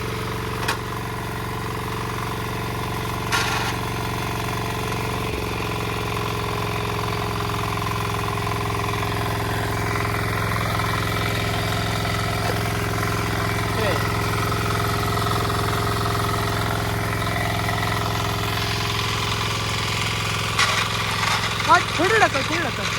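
A tractor engine runs steadily throughout at a constant idle-like drone on a muddy Konkan paddy field during rice planting, with occasional voices talking over it.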